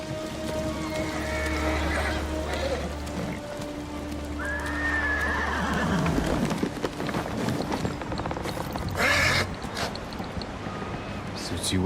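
A horse named Kage in the Ghost of Tsushima video game gives a whinny amid a game soundscape with rain and hoof movement, while a voice talks over parts of it.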